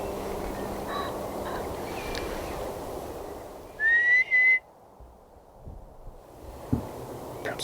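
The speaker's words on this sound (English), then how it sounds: "so I'll just try a whistle" A person whistles to coax a roe deer to stand during an end-of-season roe doe stalk outdoors. A short, sharp rising whistle is repeated twice in quick succession over wind noise, with faint bird calls nearby.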